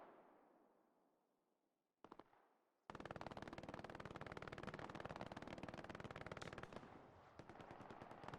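Machine gun fire in a military multiplayer video game: a short burst, then sustained rapid automatic fire lasting several seconds, loud and dense, with no talking over it.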